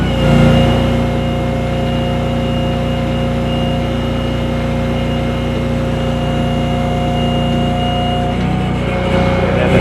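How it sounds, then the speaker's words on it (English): A welder's engine drives the hydraulic pump for an IMT crane on a Chevrolet Silverado 5500HD truck, producing a loud, steady drone with a constant tonal whine that holds unchanged throughout. "I actually run a hydraulic pump off of my welder to run the crane and to run the air compressor"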